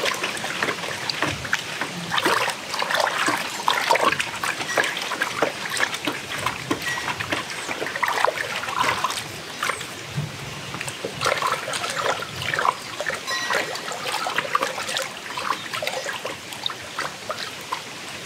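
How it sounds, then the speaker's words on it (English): A stick stirring liquid fertilizer into water in a garden bucket, giving soft sloshing and trickling splashes that come and go irregularly, close by and fairly quiet. "I always just keep a couple sticks here to stir it."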